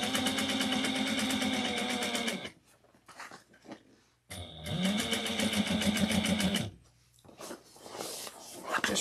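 A sewing machine top stitches a bag at a long stitch length, running in two steady motorized bursts with a brief quiet pause between, then starting again near the end.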